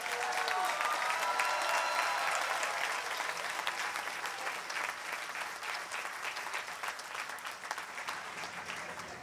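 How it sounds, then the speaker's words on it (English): Sustained applause from a large audience at a 2009 USC graduate commencement ceremony honoring doctoral graduates, steady and fairly distant, with a faint voice early on. "Let's get a huge round of applause for the doctoral graduates"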